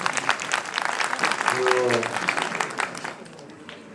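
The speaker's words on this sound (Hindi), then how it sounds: "बिहार वालों के लिए जोरदार ताली बजा दी" Audience applause at the 44th India International Trade Fair 2025 in Delhi, a steady crowd clapping for the Bihar delegation, with a voice briefly speaking over it.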